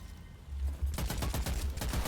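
A magazine emptied in rapid automatic fire in the video game Witchfire, a dense burst of shots starting abruptly after a low rumble, loud and close.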